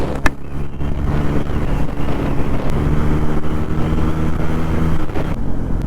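A steady Bajaj Pulsar N160 motorcycle engine hum runs throughout with low rumbling tones and some wind buffeting, idling or riding close by.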